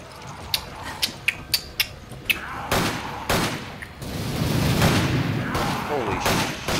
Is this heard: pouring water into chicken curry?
no